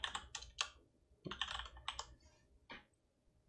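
Clattery typing on a computer keyboard during a Linux desktop menu search, heard as a few quick bursts of close, crisp keystrokes with short pauses between them.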